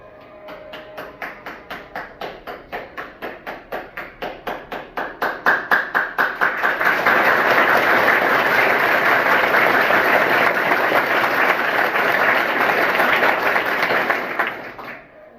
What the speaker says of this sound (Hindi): एक बार जोरदार बच्चे के लिए ताली।